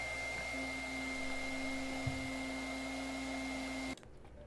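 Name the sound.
hair dryer defrosting a Brastemp refrigerator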